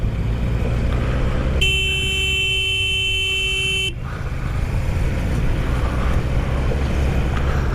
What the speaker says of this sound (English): They're just going to give you the horn.